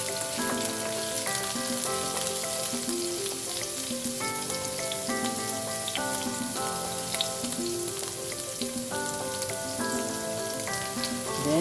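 Chopped onions sizzle steadily in hot coconut oil in a pan, a constant crackling hiss under louder background music throughout.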